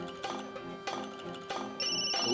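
A telephone rings in a domestic scene from a Marathi TV serial, three evenly spaced electronic ringtone bursts, clear and moderately loud, with no one speaking over it.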